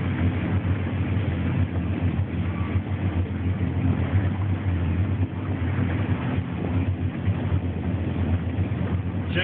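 A boat engine idles steadily in forward gear during slow-speed maneuvering, giving a constant low rumbling drone with no breaks, loud and close throughout.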